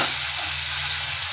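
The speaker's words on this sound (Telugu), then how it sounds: "అల్లం వెల్లుల్లిపాయ పేస్టు, పసుపు ఇవన్నీ వేశాక పచ్చివాసన పోయేంత వరకు ఫ్రై చేయాలండి" Ginger garlic paste and turmeric frying in a pan for a bendakaya tomato curry, a steady close hiss of sizzling oil throughout, with no voices.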